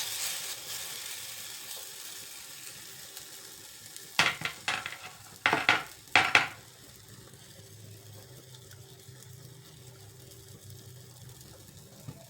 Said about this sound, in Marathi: तेल टाकायचं आहे थोडं आणि त्यामध्ये आता आपण बॅटर घालायचं आहे थोडंसं